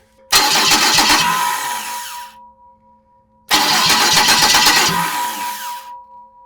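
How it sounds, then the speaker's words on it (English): A Jaguar XK six-cylinder engine cranking on a newly installed starter: two loud, close bursts of whirring cranking, each lasting about two seconds, separated by a short silence. "The starter works."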